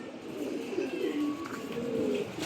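Giribaz pigeons with ash-coloured eyes coo in a low, rolling murmur, close and fairly steady, with a few higher chirps mixed in.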